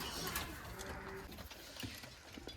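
Pigeons at a seller's loft coo in soft, low repeated murmurs, a close steady burble with faint chirps and light background noise throughout.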